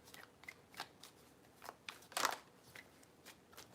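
Tarot cards shuffled three times, giving a series of short dry riffling and snapping bursts, the loudest near the middle, fairly close and quiet, with no talking.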